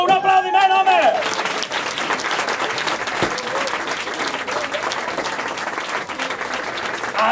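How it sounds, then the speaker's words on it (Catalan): Audience applause for the dancers of the Capità Moro boato, a loud sustained burst of many hands clapping, with a voice speaking over the first second and crowd noise beneath. "Un aplaudiment, home!"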